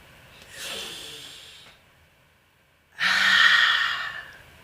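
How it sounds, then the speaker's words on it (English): Two slow, deep breaths, a long soft inhale followed after a quiet pause by a louder, fuller breath, close and alone with no speech. "You just breathe."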